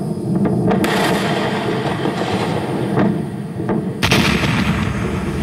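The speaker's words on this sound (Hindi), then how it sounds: "धमाके में स्पेसएक्स कंपनी का फैल्कॉन 9 रॉकेट तबाह हो गया" A SpaceX Falcon 9 rocket explodes on its launch pad during testing before launch, a series of thunderous blasts and crackling booms over a continuous deep roar, with a sharp loud burst near the end.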